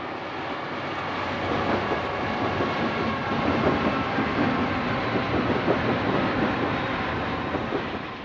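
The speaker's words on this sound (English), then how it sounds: "This SD45 leads a pair of U25s at Colton Crossing" Southern Pacific SD45 diesel locomotive leading a pair of GE U25s at Colton Crossing, a loud continuous engine roar and rumbling rail noise with steady clatter as the train passes close by.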